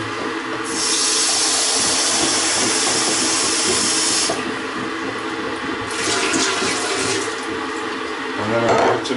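Warm water rushes and swirls loudly inside a beer keg during rinsing, a continuous hiss with gurgling splashes, easing briefly in the middle before surging again, ending in sloshing.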